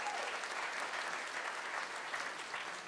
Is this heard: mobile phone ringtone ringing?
no